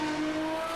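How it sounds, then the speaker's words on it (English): A Corvette GT1 race car engine in iRacing holds a loud, steady high-revving drone for under a second with no voices. "all you hear is that engine."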